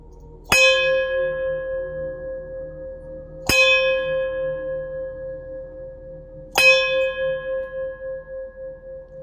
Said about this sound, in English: And one thing we'll do today is our lovely bell.